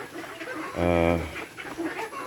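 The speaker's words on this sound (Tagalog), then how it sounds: "Yung ating manok dito sa labas." A single drawn-out squawk from a chicken, rising and falling, with soft background noise and faint clucking around it.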